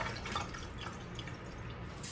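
Rinse water is poured out of a container of soaking dried hominy in a kitchen, a faint, continuous splashing trickle with scattered drips, close by and without talk.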